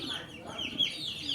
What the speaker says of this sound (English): So this is our next batch of little chickens.